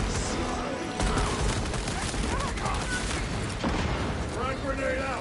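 Gunfire in Warhammer 40,000: Space Marine 2 rattles in dense overlapping bursts with booming explosions throughout, loud and continuous, while voices talk over the battle.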